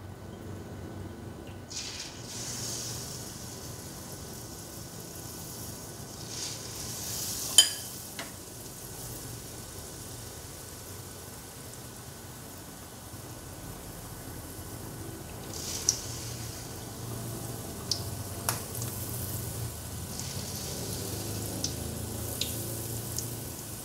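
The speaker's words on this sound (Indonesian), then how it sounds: "Langsung kita masukkan dalam minyak panas ya." Steady sizzling and crackling of battered banana fritters frying in hot oil, with occasional sharp pops and light clinks of utensils.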